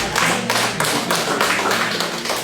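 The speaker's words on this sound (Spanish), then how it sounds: "Dímelo un fuerte aplauso al Señor." A church congregation clapping praise to the Lord, dense rhythmic applause in steady pulses, loud and close, with no talk over it.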